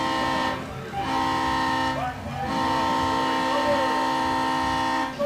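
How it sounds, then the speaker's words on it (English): A loud, sustained air horn blares at a high school varsity football game, sounding in long blasts with short breaks between them. "Honk the horn!"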